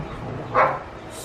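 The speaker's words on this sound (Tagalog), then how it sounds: "Ito ang ganap dito sa may aso." A single short dog bark rings out over faint background noise.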